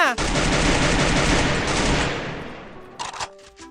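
Rapid automatic gunfire in the battle-royale game Free Fire, a loud sustained burst of shots that fades before a few sharp final clicks.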